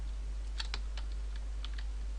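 A handful of quick keystrokes on a computer keyboard, typed while coding, come in short irregular clicks over a steady low electrical hum, close but quiet, with no talking.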